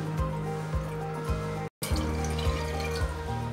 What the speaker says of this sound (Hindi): अब मैं डाल रही हूँ पानी